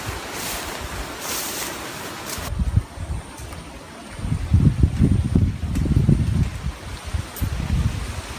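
Gusty wind buffets the microphone outdoors, rising and falling in loud rumbling bursts with a constant rushing hiss beneath.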